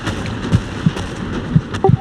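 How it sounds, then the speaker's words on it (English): Bombing-run explosions in the World War II game Hell Let Loose come as several muffled, distant booms and pops, irregularly spaced over a steady background rumble. "Don't worry, bombing run."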